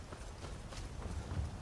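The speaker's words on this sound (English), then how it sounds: "there's our horse" Horse hooves in Skyrim, a soft rhythmic clip-clop of a trotting horse over steady ambient game sound, fairly quiet.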